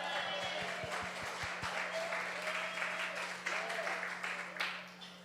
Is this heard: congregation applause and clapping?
yes